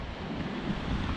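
Big sea waves roll onto the shore at Portals Nous beach in Mallorca in December, heard as a loud, continuous rushing surge mixed with strong wind buffeting the microphone.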